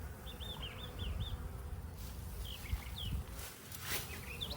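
Honeybees crowd the front of a hive at a farm, making a soft steady buzz. Birds chirp in the background, and a few nearby rustles and light knocks are heard.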